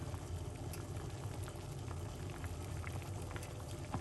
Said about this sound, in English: it's going to be boiling again